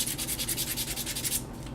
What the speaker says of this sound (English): I'm just going to quickly give this a sand down, just to remove any excess glue from the base